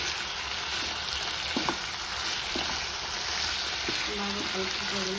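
Pepper chicken sizzles in a pan while being mixed, a steady moderate frying hiss with a few soft utensil knocks and faint background murmur.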